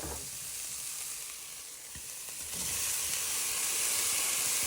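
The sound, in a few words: chopped tomatoes frying with onions and garlic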